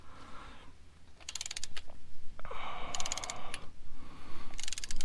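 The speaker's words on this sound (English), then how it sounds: "So you have that six inch extension on there, and just getting this to click is the goal." Ratchet fitted with a six-inch extension on a stuck oil filter of a 2007-2012 Toyota RAV4, giving short bursts of rapid metallic clicking at three points, close and fairly loud, with scraping mechanism noise between them.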